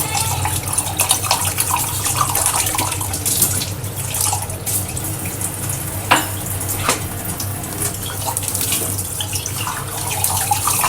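A kitchen tap runs while the kitchen is cleaned, giving a loud, continuous hiss and splatter of water into a sink close by, with occasional clinks of dishes and utensils and no talking.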